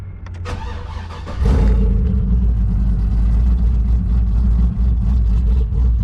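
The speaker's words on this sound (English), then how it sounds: "now I can turn on the truck and burp the system" A truck engine cranks briefly on a cold start, then catches at about a second and a half and settles into a loud, steady rumbling idle.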